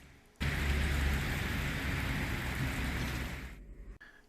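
Steady, dense rain pours down on a cold, dull day in Newcastle upon Tyne, a loud close wash of noise that stops abruptly near the end.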